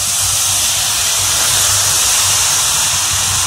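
Milk poured into a hot pan of moong dal halwa on a low gas flame gives a loud, steady sizzling hiss that stays close and continuous throughout.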